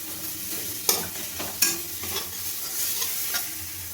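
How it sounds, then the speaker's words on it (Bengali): A spice paste is sautéed in a pan, heard as a steady sizzle with several sharp scraping stirs from a spatula at close range and no voices. "এবার আমি মশলাটাকে ভালোভাবে কষিয়ে নেব।"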